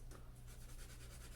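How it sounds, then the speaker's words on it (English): Graphite pencil held on its side shading across paper, a faint close scratchy rasp in quick rhythmic back-and-forth strokes, alone and quiet. "I'm coloring this in, I've got my pencil just turned on the side"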